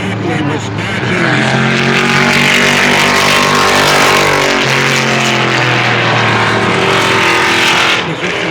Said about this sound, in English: the rumble of that Corvette's getting me